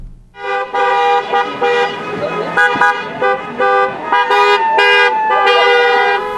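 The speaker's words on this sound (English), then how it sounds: "It was all smiles and car horns yesterday afternoon" Car horns honk repeatedly in overlapping bursts at a celebratory drive-by parade for a high school baseball team at a ball field, loud and close, with several horns of different pitch blaring almost continuously.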